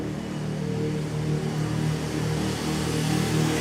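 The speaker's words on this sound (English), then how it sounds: "there's a very noisy motorbike" A noisy motorbike on a city street in Toronto at night, a loud continuous engine roar with traffic rumble around it.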